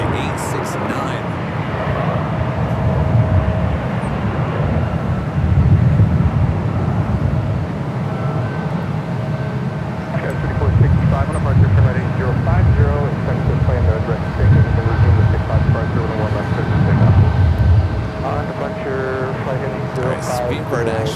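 A United Boeing 777-300ER departs San Francisco airport bound for Hong Kong, a steady broadband jet roar swelling and easing at a distance, with someone talking over it throughout.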